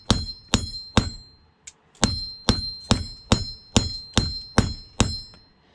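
Sharp metallic hammer blows strike a scrap electronic connector resting on a hard V-block. About a dozen ringing impacts fall at a fairly steady rhythm, each with a bright clang, and one brief pause comes early on.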